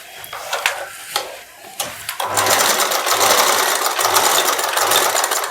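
Near the start come a few scattered clicks and handling knocks, then a sewing machine runs steadily and loudly, stitching over the marked points on a boat-neck blouse lining, its needle thumping in a regular low pulse under the whir.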